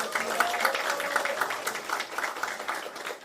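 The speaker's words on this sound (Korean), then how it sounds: "박수가 좀 더 크게 나와야 되는데요." Crowd clapping at a Democratic Party rally in South Chungcheong, Korea, a moderate continuous patter of applause heard at some distance, with a brief voice near the start.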